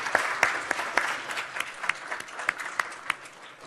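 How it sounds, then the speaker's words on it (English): Steady audience applause fills a Constitution Day swearing-in ceremony at a United States District Court in Wisconsin, a dense moderate patter of many hands with a few sharper claps standing out, lasting several seconds with no talking. "Can we please give Mike Boucher a big round of applause?"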